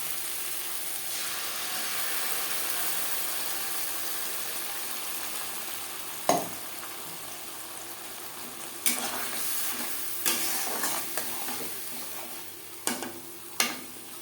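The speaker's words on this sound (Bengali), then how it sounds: "এক দু মিনিট নাড়াচাড়া করে নেওয়ার পর দিয়ে দেবো পেঁয়াজ টমেটো ও পাকা লঙ্কার পেস্ট" Onion, tomato and red chilli paste frying in a pan for a rohu fish tomato curry, a steady sizzling hiss that runs throughout, broken by a few sharp clinks and scrapes of stirring in the second half; no one speaks.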